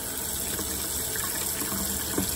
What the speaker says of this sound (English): I'm hooking up, testing my water system